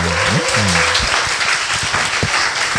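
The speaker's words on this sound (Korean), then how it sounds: "우리 UPA 학생들의 우리 큰 박수 한번 보내주세요" Loud, close applause from an audience cheering students in uniform, dense continuous clapping with a brief voice heard at the start beneath it.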